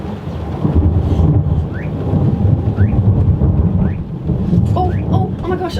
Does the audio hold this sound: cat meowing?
no